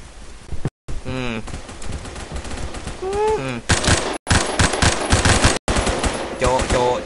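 M4 rifle fire in the Phantom Forces video game, loud rapid bursts of automatic gunshots separated by short pauses, with game sound effects and voices in the background.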